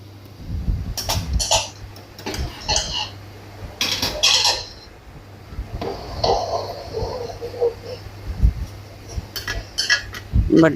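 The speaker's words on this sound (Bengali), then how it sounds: "এবার একটু ভালো করে সব নেড়ে চেড়ে নিয়ে এইবার আবার ঢেকে দিতে হবে" A spoon stirs kasuri methi chicken in a metal pot, giving repeated scraping clinks in bursts, followed by a lid being set down over the pot, with a low fan hum behind.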